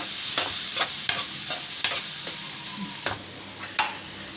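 Onions and green chillies frying in oil for an eggplant and egg curry, with several sharp spoon-scrapes against the pan over a steady sizzle, fairly close, with no talking.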